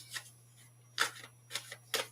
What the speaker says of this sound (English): I'm going to give you a shuffle of the cards